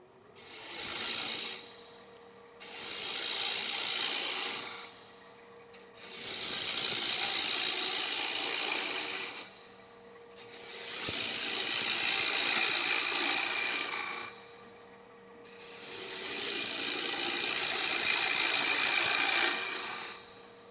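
Bowl gouge cutting coves into a shallow wooden bowl on a lathe, five long scraping, hissing cuts in steady rhythm, each swelling and fading with short quiet gaps between, close and clear with no talking.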